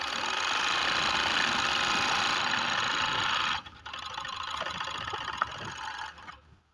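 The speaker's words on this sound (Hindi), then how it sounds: "अब हम इसके ऊपर अगर कपड़ा लगा के चलाएंगे तो इंशाल्लाह बेहतरीन सिलाई निकालेगा।" Overlock sewing machine running steadily with a dense, whirring motor drone, briefly dipping then resuming before slowing to a stop, close and loud.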